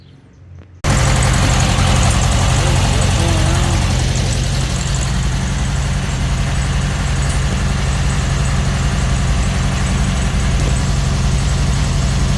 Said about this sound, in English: See, I'll just snap the throttle.